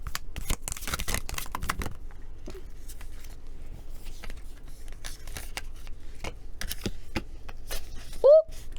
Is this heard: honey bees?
no